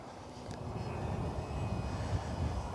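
A chase plane flies alongside a tow camera plane, giving a continuous engine and propeller drone that stays fairly steady and moderately distant through the short stretch, with no talking.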